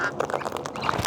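A flock of wild cockatoos gives harsh, raspy squawks in a short, dense burst of overlapping calls, fairly close and loud.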